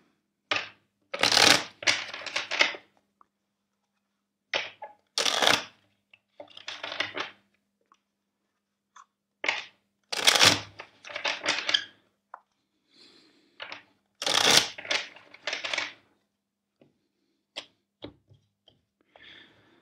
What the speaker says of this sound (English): let's first shuffle your deck